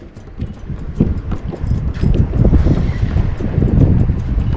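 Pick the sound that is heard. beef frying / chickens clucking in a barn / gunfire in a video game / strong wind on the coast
strong wind on the coast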